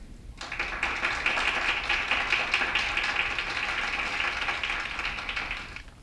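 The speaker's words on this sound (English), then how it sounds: "Here we have some clapping." Clapping from an audience in an auditorium during a pageant competition, a dense steady patter of many hands that holds loud and even for several seconds.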